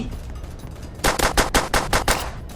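Gunfire from the Roblox game War Age Tycoon: quiet background hits, then from about one second a loud run of roughly eight evenly spaced shots in a steady burst.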